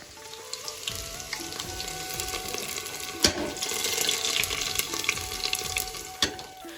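Chopped onions hit hot ghee with spluttering cumin seeds for a veg pulao, giving a steady, moderately quiet sizzle with a few sharp clinks of a utensil against the pan, and no voices.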